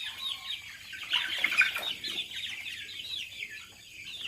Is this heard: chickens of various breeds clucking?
yes